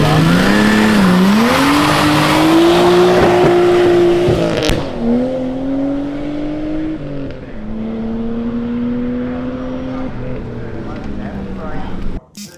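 A Nissan Skyline launches off the line at a hillclimb on Mount Leura, its engine revving hard and climbing through gear changes with a sharp break near five seconds, loud and close, then easing off.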